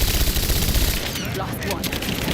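Sustained covering gunfire in the video game Rise of the Tomb Raider: a dense, loud rattle of rapid automatic shots running throughout, with voices faintly underneath.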